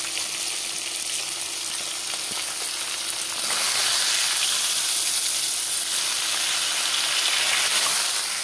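Fish heads frying in hot oil give a steady, loud sizzle with a hissy crackle that swells louder midway and holds there, with no voices present.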